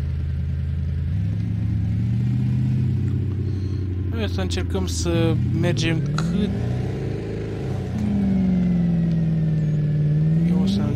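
Porsche Panamera engine in Euro Truck Simulator 2, a steady mid-pitched drone rising and falling as the car drives, with someone talking over it throughout.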